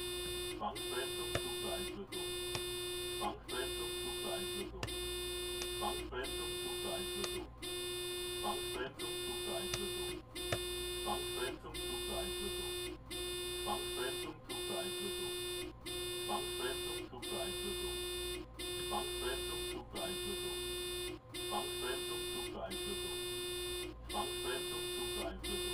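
A harsh electronic warning buzzer sounds over and over inside a simulated train cab in Train Sim World 3, with regular on-off bursts filling the whole stretch above a constant low engine drone.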